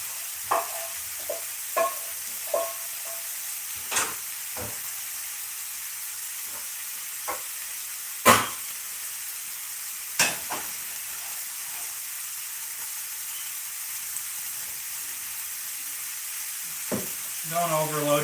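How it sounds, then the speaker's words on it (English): Sausage for a big batch of breakfast burritos browns in a crowded frying pan, giving a steady close sizzle broken by scattered sharp pops and spatters, with a few louder clatters near the end. "You want all of your sausage to be touching so it gets some of that browning action"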